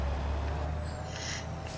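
A truck's air brakes in Farming Simulator 25 let out a sharp hissing release over a steady low engine idle, with a thin whistling tone sliding downward, close and moderately loud.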